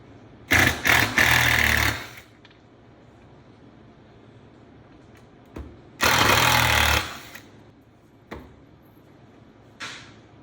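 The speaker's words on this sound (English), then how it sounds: "So I think we will take the screws out of here." A power driver backs screws out of wooden boat transom cheek pieces in two loud, close bursts of whirring and rattling, separated by quiet pauses and small clicks.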